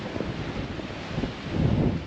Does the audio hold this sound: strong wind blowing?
yes